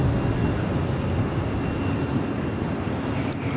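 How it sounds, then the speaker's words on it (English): A Boeing 787-9 Dreamliner taxis at LAX, a steady broad engine rumble and roar holding at even loudness throughout, fairly close and continuous with no voices. "It's a flight heading back to Token Rita on that 787-9 Dreamliner"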